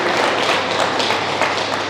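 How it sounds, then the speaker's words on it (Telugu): A crowd at a political meeting applauds steadily, a dense wash of clapping from many hands with no break. "మీరందరూ గట్టిగా చప్పట్లు కొట్టి స్వాగతం పలకాలని కోరుచున్నాను"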